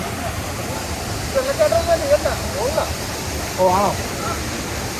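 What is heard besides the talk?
small waterfall, water cascading down rocks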